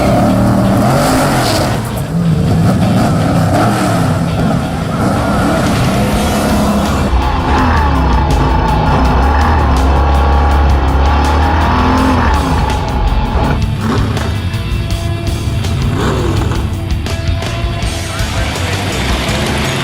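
A drag car at a race event launching at high RPM, a loud, dense roar of engine noise with squealing tires, staying intense throughout and carried on the full run.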